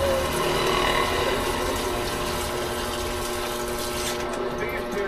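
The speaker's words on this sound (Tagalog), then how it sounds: "Babad na natin sa tubig tong kangkong" Water runs steadily from a tap into a basin to soak water spinach for pork rib sinigang, a continuous close rushing that fades slightly at the end.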